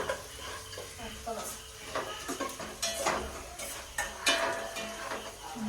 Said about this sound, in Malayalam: ഞാൻ ഇളക്കിക്കൊണ്ടിരിക്കുകയാണ്